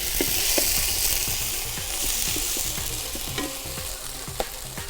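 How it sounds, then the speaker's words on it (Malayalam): Ginger, garlic and green chilli paste fry loudly in a pan with a dense, continuous sizzle, broken by repeated scraping stir strokes. "ഒരു 100 ഗ്രാമോളം പച്ചമുളക്, ഇത്രയായിട്ടൊന്ന് മൂപ്പിക്കാം നല്ല രീതിയിൽ"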